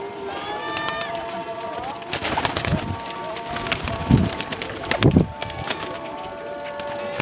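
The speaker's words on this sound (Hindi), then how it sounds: "ये चीना कबूतर है" Chinese pigeons being handled and shown in Faisalabad stir and flap in a few soft, close bursts, with faint tonal calls near the start.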